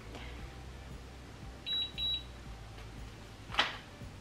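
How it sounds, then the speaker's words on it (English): Two short, high electronic beeps sound in quick succession from a nearby hair curling device, followed by a brief rustling noise in an otherwise quiet room. "It's still beeping."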